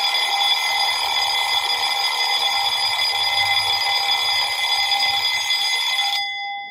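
An electronic reading-sprint timer alarm rings steadily and loudly with a bright, continuous tone for about six seconds, then cuts off abruptly near the end, with no talking over it.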